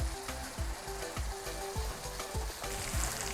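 A thick paste for Javanese fried egg noodles sizzles steadily in a pan as it darkens, with a scrape of stirring about every half second over the continuous frying hiss.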